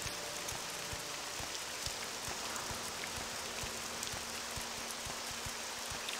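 Rain falls steadily in the video game Morrowind, a soft constant hiss of drops with faint regular ticking patters, quiet and unbroken, with no speech.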